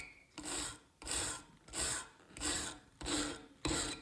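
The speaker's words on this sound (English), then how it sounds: "as I'm wire brushing, big chunks of rust come off" A wire brush scrubs rust from a 270-year-old iron key in steady back-and-forth strokes, six rasping passes in an even rhythm, close and alone.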